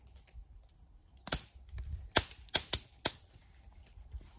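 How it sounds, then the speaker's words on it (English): Fireworks go off in the distance near a woodland: five or six sharp, faint cracks and pops spaced irregularly, heard alone in a quiet outdoor setting. "Fireworks."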